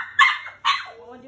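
A seven-week-old puppy gives two sharp, high yips about half a second apart, close and fairly loud, trailing into a brief whine.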